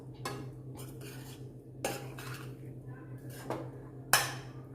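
A spoon stirs tempering into steamed gram-flour khaman in a dish, with a few sharp metal-on-dish clinks and soft scraping over a low steady hum. No voices.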